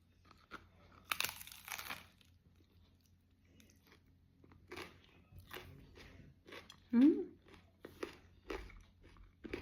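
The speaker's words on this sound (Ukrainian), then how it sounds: "Тільки ліпешку відкусила." Someone bites into a flatbread and chews it, producing quiet, sporadic crunches and soft mastication sounds close to the ear, with small louder bites.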